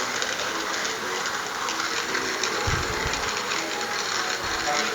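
Arco hand coffee grinder milling 10 grams of coffee beans, a steady, close, rough whirring grind that runs continuously, with a few low knocks partway through.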